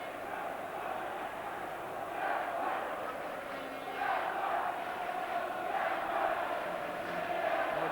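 A large football crowd roars and murmurs all around Lansdowne during the Shelbourne v Dundalk FAI Cup Final, a steady broad wash of distant voices that swells in waves, with fainter chanting rising now and then.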